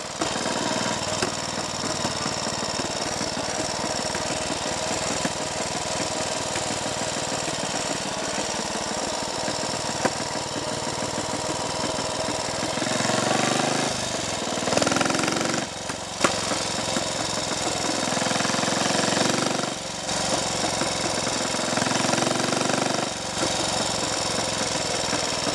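A Triumph Tiger Cub trials motorcycle, unused for years, runs continuously on a Roman road with a steady, busy engine chatter, rising to louder revving bursts around the middle and late stretches.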